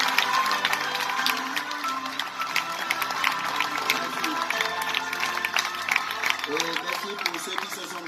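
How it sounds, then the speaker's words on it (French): A live magic show crowd claps and cheers steadily throughout, with scattered sharp claps and shouts over a dense, continuous wash of applause. "Attendez un applaudissement pour Thibaut encore, s'il vous plaît"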